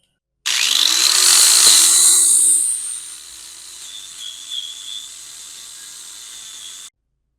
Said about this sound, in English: And we're grinding.